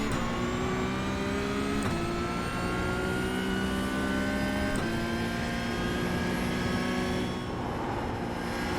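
A Porsche 992 GT3 Cup racing engine in the iRacing sim on the Nürburgring, holding a loud, steady high-revving tone with two quick shift blips, with no voice over it.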